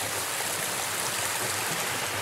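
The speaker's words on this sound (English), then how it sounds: "this whole trail is pretty much along this stream" A stream flows steadily beside a forest trail in Pisgah National Forest, a continuous close rushing of water with no pauses and no voices.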